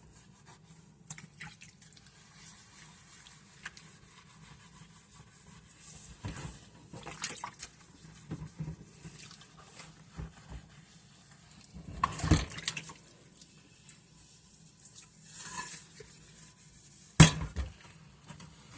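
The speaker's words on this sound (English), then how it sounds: "now I'm gonna wash this pot too" A pot being washed under running water at a sink, with a soft trickle and intermittent splashes, sloshes and knocks of the pot, quiet and close, plus a sharper clatter near the end.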